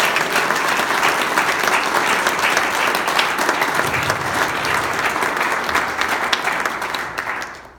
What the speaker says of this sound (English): she deserves a round of applause for it